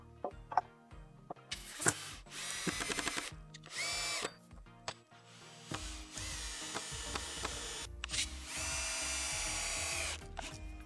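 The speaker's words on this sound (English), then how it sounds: "I'm going to add a screw to easier hang my 2x4" Power drill driving screws into a wooden fence, hanging a 2x4 stringer on a post: several bursts of whirring motor with pauses and tool handling between, close and loud.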